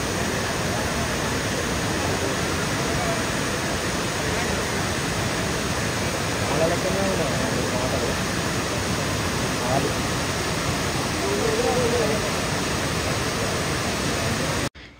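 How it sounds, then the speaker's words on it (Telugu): Ethipothala waterfall in the Nallamala hills, heard as a loud, unbroken roar of falling water that holds steady for about fifteen seconds before cutting off sharply. "పైనుంచి ఆ సౌండ్స్ వింటుంటే కూడా వాటర్ అది చాలా పీస్ఫుల్గా అనిపిస్తుంది ప్లేస్."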